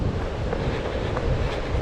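Water rushing over a weir on the River Severn makes a steady, broad roar heard while running past, continuous and fairly loud, blended with some wind buffeting.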